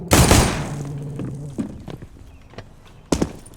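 Gunfire shot through wooden boxes on the Inferno map in Counter-Strike: Global Offensive: two sharp, loud blasts about three seconds apart, with fainter clicks and thuds between them and no talking.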